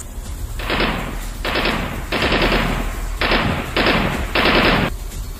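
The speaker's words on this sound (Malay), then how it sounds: "Setelah safety pin ditarik, maka terdengarlah bunyi nyaring daripada HK416." Bursts of HK416 rifle fire, six loud rapid-fire volleys of roughly half a second to a second each, separated by short pauses.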